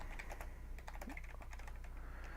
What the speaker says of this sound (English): I'm writing and typing quick